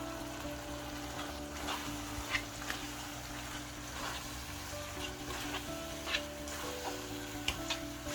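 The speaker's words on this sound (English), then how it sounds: "Now we're gonna add in about 100 grams of mixed seafood and our prawns." Mixed seafood and prawns sizzle steadily in a pan while charcoal seafood noodles cook, a soft continuous frying hiss with occasional faint stirring clicks.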